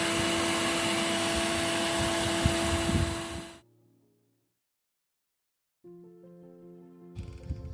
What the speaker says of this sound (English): So Henry the Hoover has finished